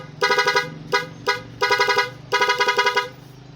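A 12-tone pop-up motorcycle horn blares in five loud, close bursts, each a rapid warbling trill of chirping tones separated by short gaps.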